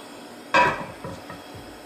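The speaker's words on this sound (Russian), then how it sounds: "Разогреваем сковородку и начинаем время от времени перемешивать сухарики, чтобы они равномерно румянились со всех сторон." Dry homemade croutons for beer are stirred in a frying pan over medium heat, a single scraping clatter followed by softer rustling pushes against the pan.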